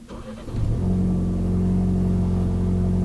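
A Ford Bronco with a cheap aftermarket exhaust starts with a brief rough burble, then settles into a loud, deep, steady roar heard close up from inside the vehicle.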